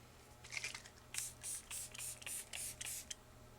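A facial oil mist sprays from a pump bottle in a quick run of soft, hissing bursts, about seven or eight spritzes close to the microphone in a quiet room.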